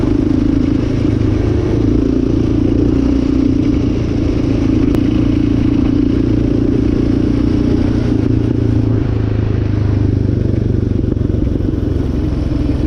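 Yamaha Raptor 700R sport quad engine droning steadily while riding a scenic route toward National Forest land, a loud, continuous low rumble with slight rises and dips in revs throughout, no talking.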